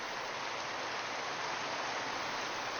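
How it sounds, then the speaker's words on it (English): Steady heavy rain pours down in a dense, unbroken hiss that stays even and close for the whole stretch, with no voices over it. "that rain hits later in the day and comes pouring down for hours and hours"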